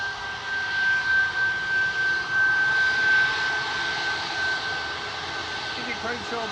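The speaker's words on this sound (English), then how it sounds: "As these jet off to Milan there, GZHK, flight 3838, A320neo" An Airbus A320neo jet takes off from Manchester Airport toward Milan, a steady broadband engine roar with a thin sustained whine, some faint talk underneath.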